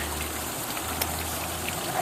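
Water runs steadily through a brand-new organic garden recycling system fed from a soil garden, a continuous close trickling and gushing flow with no talking.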